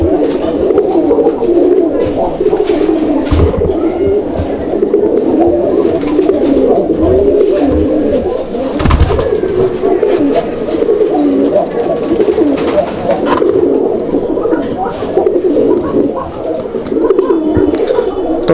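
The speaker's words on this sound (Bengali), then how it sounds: "আপনারা দেখলেন কত চমৎকারভাবে কবুতরটা ডাকে" Domestic pigeons, a pair offered for sale in Bangladesh, coo steadily and loudly at close range, with continuous low rolling calls and people talking over them.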